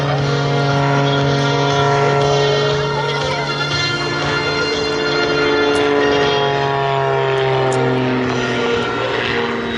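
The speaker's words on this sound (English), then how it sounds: "This presentation of the Oregon Aero Skydancer, piloted by Steve Oliver, has been brought to you by Oregon Aero" The Oregon Aero Skydancer propeller airplane drones at an airshow with a sustained, loud engine hum whose pitch shifts slowly as it flies.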